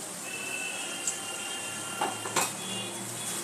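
Spoonfuls of malpua batter, sweetened with date-palm jaggery, fry in hot oil with a faint, continuous sizzling hiss. A few brief crackles pop through near the end.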